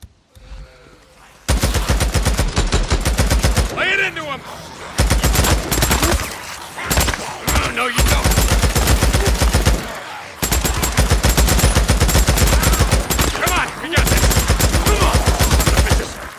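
Long, dense bursts of machine-gun fire in the game Days Gone, loud and near, rattling almost continuously with brief pauses between volleys.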